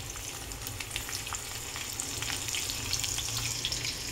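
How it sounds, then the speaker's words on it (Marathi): Onion fried in hot oil with mustard seeds, a dense, continuous crackling sizzle with small pops, close and steady throughout. "आपण कांदा टाकून घेऊयात."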